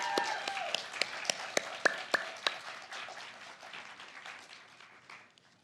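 Grateful round of applause from a senior celebration audience for the support team, friends and family, with dense clapping and a few sharp near claps that gradually thin and fade out.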